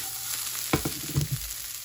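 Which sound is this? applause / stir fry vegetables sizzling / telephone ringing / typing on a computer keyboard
stir fry vegetables sizzling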